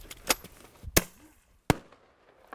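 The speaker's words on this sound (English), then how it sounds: "It's just like a firecracker, a big firecracker." Three sharp firecracker-like bangs used to scare off wolves crack out at irregular intervals, each loud and abrupt with a short fading tail, separated by quieter background.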